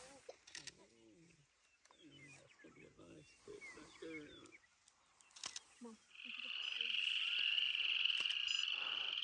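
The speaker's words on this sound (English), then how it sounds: "You hear all those frogs crying out there." Frogs croaking outdoors at night on the Pine Ridge reservation in South Dakota, a chorus of croaks mixed with people talking nearby, then a loud continuous high trilling chorus swelling in the second half.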